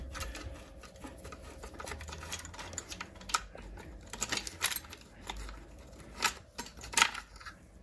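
Ratcheting and clicking while bolts are undone on the EGR valve of a 2.7 diesel TD V6 engine, with quick irregular clicks and metallic taps, close and moderately loud, with no talk.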